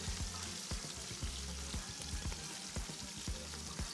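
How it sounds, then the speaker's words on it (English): Food deep-frying in hot oil, a dense steady sizzle with frequent sharp pops and crackles, close by. "Now it's already deep frying."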